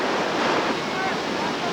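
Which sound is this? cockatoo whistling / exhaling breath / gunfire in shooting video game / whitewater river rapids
whitewater river rapids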